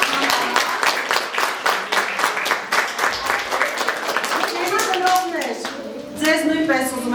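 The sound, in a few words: audience applause at a children's concert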